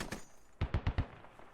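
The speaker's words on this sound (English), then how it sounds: "Harv just got shot up by Imanaz." Gunfire in the tactical shooter game Squad, a quick burst of four or five loud, evenly spaced shots after a stretch of faint background noise.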